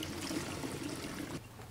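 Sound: water being poured into a container

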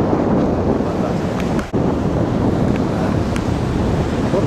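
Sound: sea waves on a sandy deserted beach

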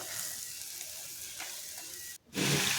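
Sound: fried potatoes stir-fried with spices in a pan

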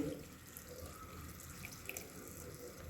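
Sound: straining tamarind water into a pot

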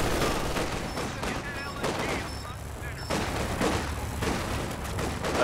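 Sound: machine gun fire in Company of Heroes video game

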